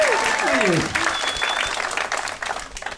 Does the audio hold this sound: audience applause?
yes